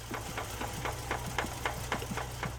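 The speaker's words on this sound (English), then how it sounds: "knocking noises were heard coming from deep inside the engine. It sounded like this." A petrol engine idles with a steady, rhythmic knocking from a spun rod bearing deep inside, evenly spaced metallic taps over a low rumble.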